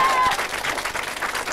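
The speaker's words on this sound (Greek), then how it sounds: "χειροκρότημα εδώ" Studio audience applause at a 1992 Greek television interview, a dense, loud burst of clapping from a crowd that continues steadily throughout.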